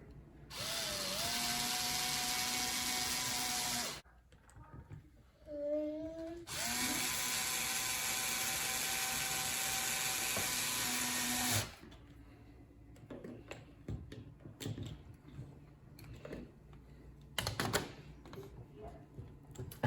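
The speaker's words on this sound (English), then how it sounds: "I actually got this little drill." A small, weak 4-volt cordless drill drives a screw while a thermostat is mounted on a wall, with two long steady whirring bursts, a short blip between them, then quieter clicks and handling.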